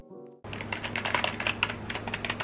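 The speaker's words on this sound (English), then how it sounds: "This PC came with a keyboard. It doesn't feel or sound the best," Typing on the cheap keyboard bundled with a budget Best Buy gaming PC: after a brief moment of hum, a fast, steady run of light plastic keystrokes, close and alone, with no talking.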